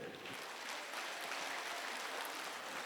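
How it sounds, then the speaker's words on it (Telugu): An audience at a school annual day celebration in Chittoor claps together, a dense, even patter of hands heard faintly and at a distance, steady for the whole stretch. "ఒకసారి మీరు గట్టిగా క్లాప్స్ ఇస్తే"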